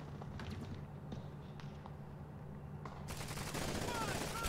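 Covering gunfire in the video game Call of Duty 2: Big Red One, a battle in Troina, Sicily: a continuous rattle of rifle and machine-gun fire that swells much louder toward the end.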